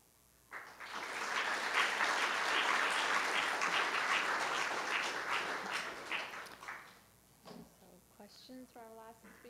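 Loud audience applause after conference oral presentations fills most of the clip, a dense wash of clapping that fades out, followed by a few moments of quieter speech.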